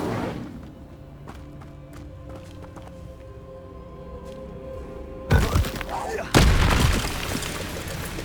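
Fire spell effects burst in Hogwarts Legacy, two loud crackling, roaring blasts arriving late after a stretch of quieter ambient music, with a voice calling out in the game.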